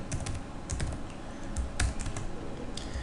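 Keys on a computer keyboard clatter in quick, irregular bursts of close, crisp clicks while Python code is typed, with no voices over them.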